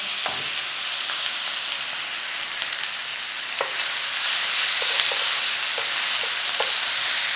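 Sliced peppers sizzle in olive oil in a pan on lowered heat, a one-pan peppers and feta dish. A steady, close hiss of frying runs throughout with a few faint pops and utensil ticks, no talking.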